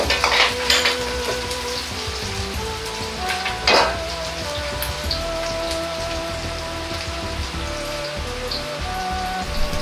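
Green peppers for twice-cooked pork stir-fry in a hot wok with a dense, continuous crackling sizzle, punctuated by a few louder spatter bursts early on, heard up close with no voices.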